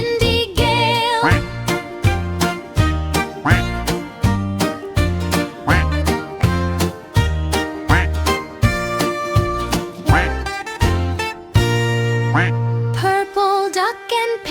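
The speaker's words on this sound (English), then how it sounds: "Four green ducks near a tree, quack together" Cheerful upbeat kids' tune with rhythmic bass and bright synths, with repeated quacking sounds woven into the music.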